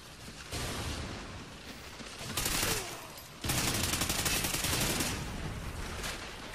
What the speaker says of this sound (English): Yeah, that guy ran around the corner shooting